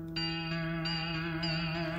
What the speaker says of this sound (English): And then you have the tape flutter